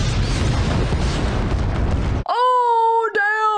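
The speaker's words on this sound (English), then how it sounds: "It's gonna explode." A building in the James Bond film Spectre blows up in a loud, dense rumbling blast that fills the first two seconds, then cuts abruptly to a voice reacting.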